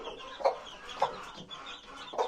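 A hen on a straw-strewn poultry yard clucks in three short, soft calls spaced about half a second to a second apart, close by over faint background ambience.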